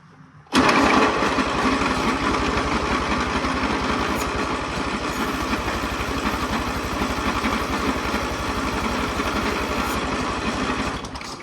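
An Oliver OC3 crawler tractor engine with a vacuum leak bursts into life and runs steadily, a loud rapid chugging idle that continues alone for about eleven seconds.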